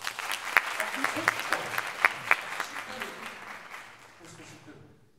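A concert audience claps together, a dense patter of hands that swells briefly and then fades away to silence.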